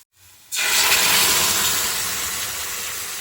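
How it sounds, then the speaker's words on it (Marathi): Chopped garlic and spring onion greens hit hot oil and sizzle loudly. The hiss bursts in after a moment of quiet, then holds steady and close, easing slightly toward the end. "याचा कलर थोडासा ब्राऊन होईपर्यंत ते त्याला छानपैकी परतून घेतात"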